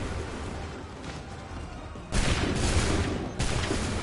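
A volley of musket fire in Assassin's Creed 3 erupts as a sudden loud burst of massed gunshots over a steady battlefield rumble, followed moments later by a second crashing volley, with no voices.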